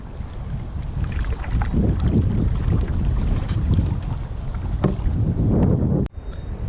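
A canoe moving fast through a strong river current in the narrows above rapids on the French River, with steady rushing water and heavy wind buffeting the microphone, loud and continuous with a brief dropout near the end.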